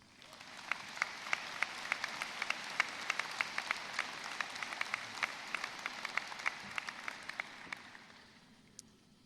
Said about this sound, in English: Please join me in giving the staff and support services a well round of applause.